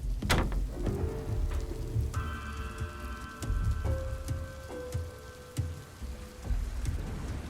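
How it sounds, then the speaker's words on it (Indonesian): Heavy rain falls steadily with a dense wash of sound, along with a low rumble and scattered sharp knocks. A faint tonal hum runs underneath, and no one speaks. "Hujan turun dengan sangat deras."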